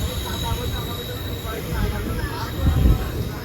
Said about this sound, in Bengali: আমাদের ট্রেন এখন ছেড়ে বেড়াচ্ছে খাগড়াঘাট রেলওয়ে স্টেশন থেকে